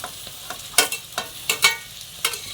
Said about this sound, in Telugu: ఈ క్యాప్సికం ఎక్కువ ఫ్రై అవ్వకూడదంటండి